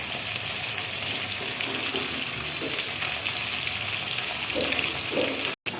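Hilsa fish frying in a pan, an even bubbling sizzle close by with a few soft stirring bumps, cutting off abruptly just before the end.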